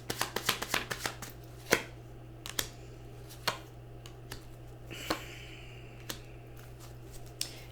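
Tarot cards riffled and shuffled in a rapid burst of crisp snaps, then pulled one at a time with sharp, spaced flicks and slides over a steady low hum.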